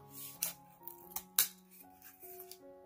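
Scissors cut a cardboard moon shape, giving a few sharp, quiet snips spaced irregularly over soft, sustained background music tones.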